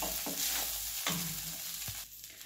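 Soaked poha is stirred and roasted in a pan over low heat. A soft, steady sizzle runs under three distinct spatula scrapes across the pan, and the sound quiets near the end, with no voices.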